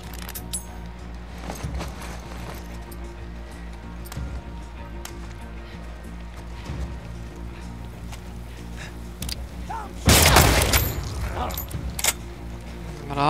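Gunfire from a rifle in the post-apocalyptic shooter The Last of Us Part II: a loud burst of shots and impacts near the ten-second mark, preceded by scattered thuds over a steady game ambience.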